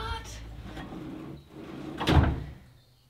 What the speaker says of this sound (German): die oberste Schublade, die hat irgendwie ein anderes Schließsystem. Das hat irgendwie keinen Soft Close